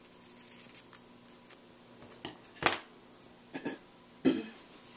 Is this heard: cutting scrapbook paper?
yes